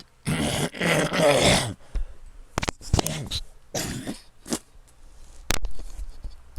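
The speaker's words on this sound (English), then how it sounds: "I needed to clear my throat so I could read and breathe." One person coughs hard and clears their throat repeatedly: a long rough bout of hacking followed by several short sharp coughs and throaty clearing sounds, close and loud, separated by brief quiet gaps.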